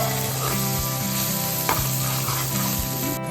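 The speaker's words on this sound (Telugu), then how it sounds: "సాల్ట్ యాడ్ చేసుకొని మీడియం ఫ్లేమ్లో పెట్టి అరటికాయలు మగ్గేంత వరకు మగ్గించుకోవాలన్నమాట" Green bananas sizzle steadily in a pan over a medium flame with salt added, and a spoon stirs and scrapes the pan at a regular pace, close and continuous with no voices.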